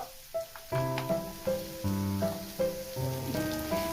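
Onion pieces with green chillies and cashews frying in a pan for butter chicken, a soft continuous sizzle with light crackles under background music.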